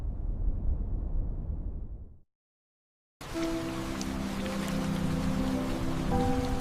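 Steady rain falls on a surface at night, a continuous hiss that cuts to silence for about a second and then returns heavier, with faint tonal hum layered beneath the downpour.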